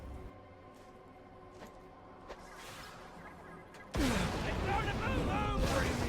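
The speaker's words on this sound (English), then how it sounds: "let's throw some grenades at them" Grenade blasts in the video game Borderlands: The Pre-Sequel come as a sudden loud burst of booming, crackling explosion noise after a stretch of quieter game ambience.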